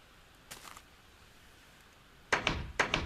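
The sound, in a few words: doors opening and closing in Minecraft video game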